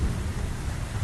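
A steady, dense hiss of heavy rain forms a story sound effect, with a low thunder rumble underneath, continuous and fairly loud throughout with no voices.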